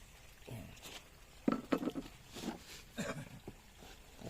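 Rice bran feed for ducks is hand-mixed with water into a thick mash, making irregular wet, squelching pats and sloshes, close by, with a busier cluster in the middle.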